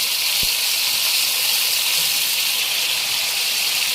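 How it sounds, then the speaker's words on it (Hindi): Tomato masala sizzling in oil over a high flame, a steady bright hiss of frying that runs evenly throughout with no voices. "आपको इसको हाई फ्लेम पे अच्छी तरह भूनना है कि इसका ऑयल अलग हो जाए।"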